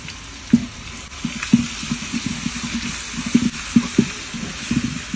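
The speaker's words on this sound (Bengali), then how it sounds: "এখানে কাকি হচ্ছে পোলাও রান্না করতেছে" Pulao cooking in a pot, with repeated close scraping and stirring knocks in an uneven rhythm over a soft steady sizzle, fairly loud and without talking.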